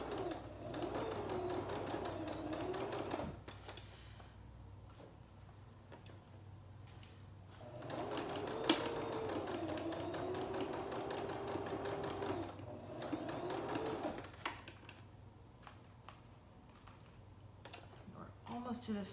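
Sewing machine stitching the edge of a reversible infinity scarf in two runs of steady mechanical whirring broken by short pauses, with quiet clicks and faint talk in between.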